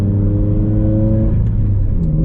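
A turbocharged widebody Toyota 86 / Scion FR-S with a Tomei exhaust drones steadily while cruising at low revs, a loud, close, continuous rumble with a brief drop in pitch as it shifts up.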